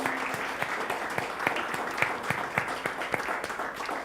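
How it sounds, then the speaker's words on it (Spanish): Church congregation applauding during a worship service, a steady wash of many hands clapping at moderate volume, with sharper individual claps standing out at a loose rhythm. "Y a Él le damos un fuerte aplauso"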